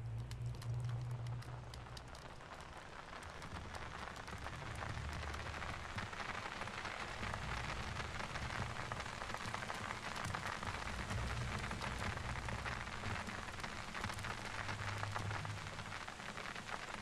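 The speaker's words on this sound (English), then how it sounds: "Oh, it's raining." Rain falls steadily in the video game Mundaun, a dense, even patter of drops hitting surfaces that stays constant and fairly close throughout, with no talk over it.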